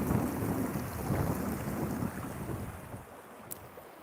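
Cold wind gusts across the microphone at a nature reserve, a loud continuous rumbling roar that eases off toward the end, with no one speaking.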